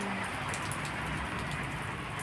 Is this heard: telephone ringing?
no